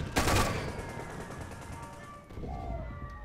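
Loud gunfire in the Toy Soldiers video game crashes out at the start, fades into a rumbling tail, then a second burst of shooting follows.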